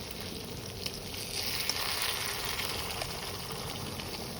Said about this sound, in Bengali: এইভাবে পুরো মাছটা ভেজে নেব।